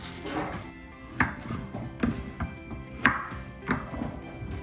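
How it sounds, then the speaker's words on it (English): A knife chops medium carrots diagonally on a cutting board, with several sharp, separate chops at an irregular pace, close and fairly loud. "Cut the carrots diagonally"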